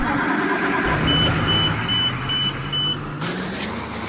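A simulated IC school bus engine starts up in Rigs of Rods, a steady loud diesel rumble and whine building and holding throughout, with a short high hiss burst near the end.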